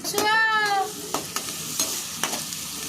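Ginger, onion, garlic and green chilli stirred and frying in hot oil in a pan while making pasta, with a steady sizzle, soft scraping stirs and a few sharp utensil clinks, no voices.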